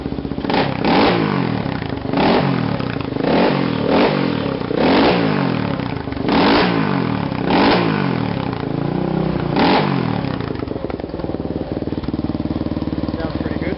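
A Yamaha TT350 motorcycle engine runs after a kick start, with a loud, close single-cylinder chug and rhythmic throttle blips roughly every second before settling into a steadier idle.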